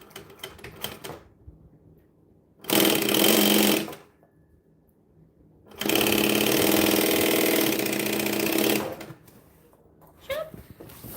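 Bag being machine-sewn during a marathon stitching session: two loud continuous bursts of motor-driven stitching, about one and three seconds long, separated by quiet handling noises.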